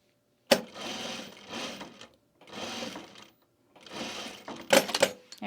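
A sewing machine stitches a small pocket for a travel bag in several separate bursts of steady whirring, with brief pauses between runs and a few sharp clicks near the end.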